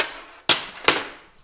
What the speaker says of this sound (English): and then take the hammer to it